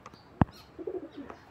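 A large female pigeon of a fancy breed gives a short, soft, warbling coo nearby, preceded by a single sharp tap, with quiet surroundings and no talking.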